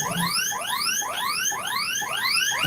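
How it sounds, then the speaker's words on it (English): A fire alarm sounds loudly and continuously, repeating a rising sweep tone about twice a second with no pause. "Alarms are going off at Cult HQ."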